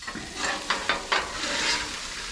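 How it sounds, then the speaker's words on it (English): Spatulas stir Chex Mix coated in oil, giving a steady dry rustle with three or four sharper scraping strokes, close and fairly loud, with no voices. "we're just going to simply take our spatulas and mix it up"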